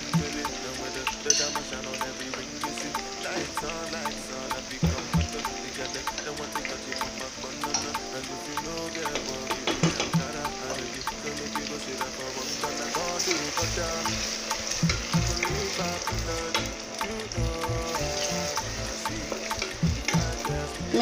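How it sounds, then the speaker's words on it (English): Pepper mix frying in a pan for a Northern Nigerian dish, a continuous hissing sizzle with clattering stirring and scraping knocks throughout. "I'm gonna let this fry before I come back to add my tomato."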